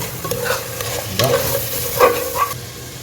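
Onions browning in oil for a beef dum biryani, stirred with a spoon: a steady close sizzle under several distinct scraping stirs against the pot, with no talking.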